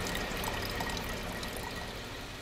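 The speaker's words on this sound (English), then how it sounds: "Getting some drinking water for the road." Drinking water is collected from a stream beside a river in northern Montana, with a steady close pouring and trickling that flows without a break and without talk.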